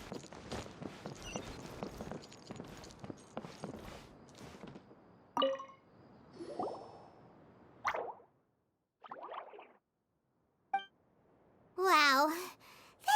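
Water droplet drips in the Genshin Impact video game, Secret Summer Paradise event: after a stretch of voices and busy game sound, a few separate plopping drips land singly with short silences between them, clear and close.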